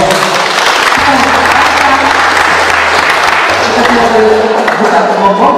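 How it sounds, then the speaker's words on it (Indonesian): Applause from a village church congregation in Solor Barat, loud and continuous throughout, with low voices and crowd noise mixed into the clapping. "Tepuk tangan untuk umat Kemaleren."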